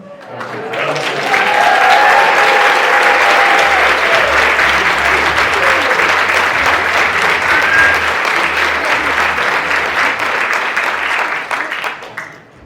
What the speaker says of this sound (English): if I could ask everyone for a round of applause for our amazing MC